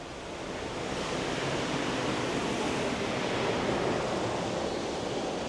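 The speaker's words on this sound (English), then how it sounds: "It's very windy." Wind and sea heard from a cruise ship balcony cabin in port at St. Thomas: a steady broadband rush of gusting air and surf that swells in after the first second and holds constant, fairly faint.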